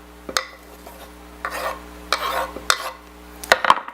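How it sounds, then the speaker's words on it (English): Biscuit dough being gently mixed with milk and onions in a bowl: a quiet wet stirring with intermittent utensil clinks and scrapes against the bowl, close and uneven, with no talking. "and then we'll gently mix this up."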